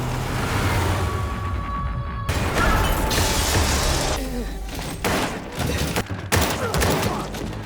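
Rapid bursts of gunfire and a loud, crashing impact fill a dense, chaotic action-film scene, with the noise staying loud and continuous throughout.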